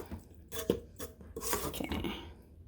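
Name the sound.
grabbing a spoon from the dishes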